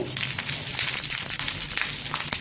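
Tamarind and curry leaves frying in a pan for a Tirunelveli thuvayal, a steady bright crackling sizzle with small pops, close and continuous, with no talking.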